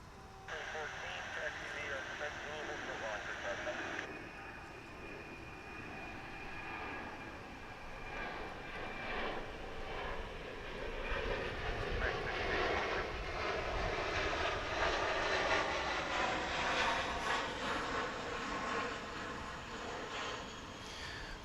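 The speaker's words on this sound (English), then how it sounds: "That was American Flight 1584, an Airbus A321 on its way to Las Vegas." An American Airlines Airbus A321 jet airliner passes at DFW International Airport, its engines a broad steady roar that swells slowly and holds loud for many seconds, with a faint tone fading out early on.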